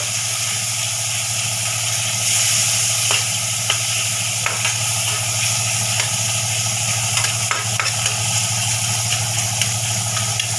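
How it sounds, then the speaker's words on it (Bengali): Fish oil fries in a pan over a low gas flame, a steady close sizzle with occasional clicks and stirring scrapes over a continuous low hum. "ভালো করে মাছের তেলটা দিয়ে ভেজে নেব।"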